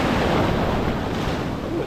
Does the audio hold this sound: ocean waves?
yes